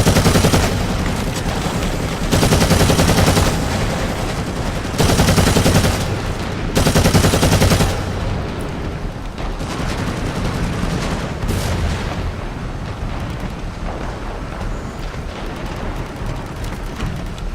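Heavy bolter fire in Warhammer 40,000 Eternal Crusade, a loud sustained stream of heavy automatic shots in several long bursts, with battle noise continuing after the firing eases.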